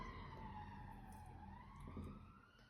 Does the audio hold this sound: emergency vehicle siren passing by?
yes